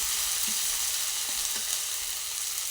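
Freshly ground spice paste, stone-ground on a grinding slab, sautéing in a pan for a kochu loti (taro stolon) dish, giving a steady close sizzle with a few soft stirring scrapes and no talk.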